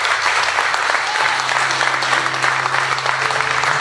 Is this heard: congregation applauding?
yes